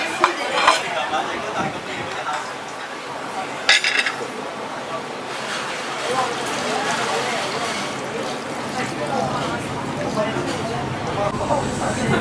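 Busy hot pot restaurant in Hong Kong: a steady murmur of many diners' chatter with dishes, bowls and cutlery clinking, including a sharp clatter near the start, a constant crowded indoor bustle.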